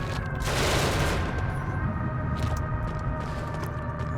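Turret gunfire in the sci-fi video game Genesis Alpha One makes a dense burst of rapid shots, loudest near the start, then settles into a steady rattling barrage over a low droning hum.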